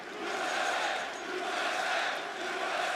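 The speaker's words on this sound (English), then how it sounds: "Listening to the chants." A large arena crowd at a CS:GO esports quarterfinal between G2 and Cloud9 chants in a steady, rolling roar that swells and dips rhythmically throughout.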